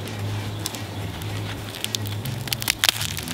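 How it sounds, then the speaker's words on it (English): Fluffy slime frozen in liquid nitrogen crackles as it is pulled apart, with scattered sharp pops and ticks that grow denser toward the end, close and crisp over a low steady hum. "You guys hear that? It's crackling."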